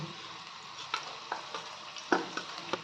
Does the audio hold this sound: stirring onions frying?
yes